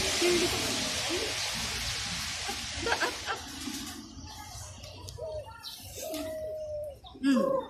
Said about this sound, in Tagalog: Yun yung kalapati yung sa baba oh.